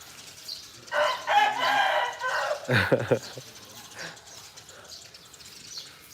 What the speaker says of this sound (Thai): สียงไก่เริ่มหลายตัวแล้วนะ